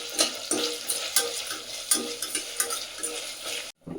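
Onion and garlic paste fries in a pan with a lively sizzle while a spoon stirs and scrapes in quick repeated strokes, close and fairly loud, ending in a sudden brief cutoff; no talking.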